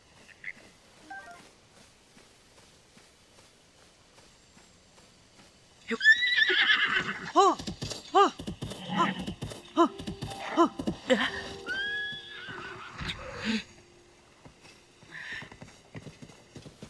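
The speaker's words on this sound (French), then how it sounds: "Ah, on a un géant cheval blanc." A giant white horse in the video game Zelda: Tears of the Kingdom gives loud, repeated whinnies and neighs over clip-clopping hooves, alone without talk, after a quiet opening.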